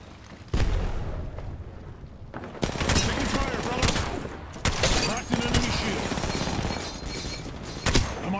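Thermite and Arc Star grenades going off in Apex Legends amid heavy gunfire, several sharp loud bursts and booms with crackling, sustained fire between them, with voices mixed in.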